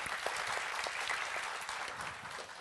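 A conference audience applauds steadily and densely, the sustained clapping holding an even level throughout with no voices standing out.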